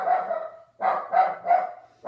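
A woman imitates a dog with her voice, giving one drawn-out bark followed by three short, loud woofs in quick succession and the start of a fifth, close to the mic with no other sound.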